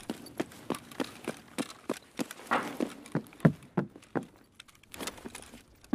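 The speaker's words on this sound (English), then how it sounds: "I heard footsteps." Footsteps in the game Escape From Tarkov on the Labs map, a series of sharp, fairly evenly spaced steps at close range that stay clear throughout, with no voice over them.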